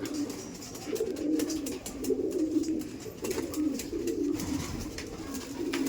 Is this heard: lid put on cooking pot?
no